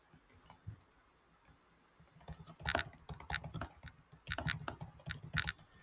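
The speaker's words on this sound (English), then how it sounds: "And you can type in whatever you like." Quiet typing on a computer keyboard while filling in an online account form, with irregular clusters of clicking keystrokes heard up close with no talking.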